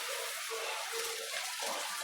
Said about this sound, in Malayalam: അതിലോട്ട് നമ്മുടെ ഈ ശർക്കര പാനി ഒഴിക്കാം. അതുകൊണ്ട് ഇതിനകത്തോട്ട് അരിച്ചാണേ ഒഴിക്കുന്നത്.